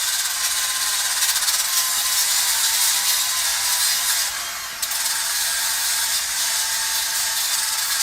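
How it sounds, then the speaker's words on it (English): Angle grinder cleaning up a roll-lock brake disc, a steady close high-pitched whir that runs continuously with a brief dip in load partway through, no voices. "you just use the grinder and just clean it up"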